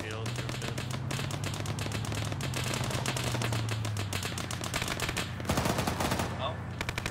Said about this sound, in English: Shooting a machine gun at it